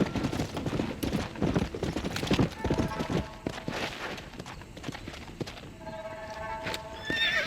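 A horse in the Red Dead Redemption video game clip-clops at a gallop with rapid hoofbeats, then neighs loudly more than once, alongside other game sounds and brief voices.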